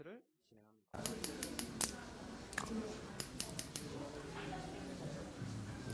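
Close scissors snip through hair in a women's short haircut at a salon, crisp metallic clicks coming in irregular quick bursts after a brief opening of speech.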